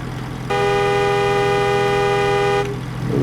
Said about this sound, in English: Kind of sounds like a car horn, though, to be honest.